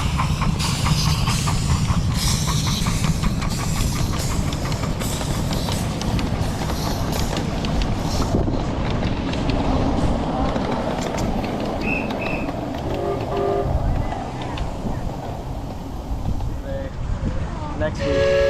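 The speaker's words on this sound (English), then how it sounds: "104 departing Hunter Station, heading for Allen's Valley." A live steam miniature locomotive, number 104, pulls out of a station on a riverside live steam railway, its steady chuffing and rumbling close, with a brief whistle toot near the end and people talking nearby.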